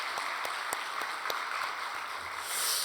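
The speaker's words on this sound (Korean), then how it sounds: "우리 같이 격려의 박수 해줬으면 좋겠습니다." A church congregation at a Friday prayer service claps in encouragement, a steady wash of applause with a few sharp near claps standing out and a slight swell at the end.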